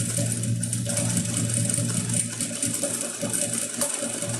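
A sewing machine stitches slowly around the edge of a fabric circle for a bread holder, giving a steady, close mechanical hum with a constant motor whir throughout and no talking.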